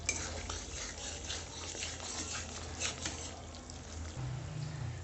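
Spiced fish curry masala for koi fish is stirred in oil over low heat, giving soft scraping and sizzling pot sounds. They run quietly and continuously throughout.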